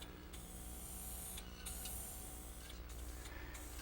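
Spray painting an MDO plywood mailbox: a steady, close hiss of a spray can or spray gun runs through the whole stretch, broken by a few brief pauses between passes.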